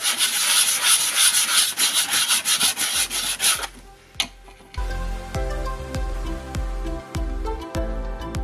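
Hand sanding of a wooden sewing box before acrylic painting: a steady, close scratchy rubbing for about four seconds, then a brief pause and a few sharper taps and scrapes.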